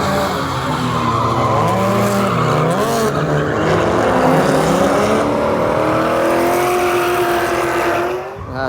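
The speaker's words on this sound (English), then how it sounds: "There we have it. Bit of drifting for you." A Holden Commodore VF at the Summernats 36 car festival drifts with tires skidding and squealing loudly and continuously, the engine note rising and falling beneath the screech.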